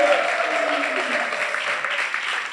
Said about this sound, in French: Sous vos applaudissements, bien évidemment.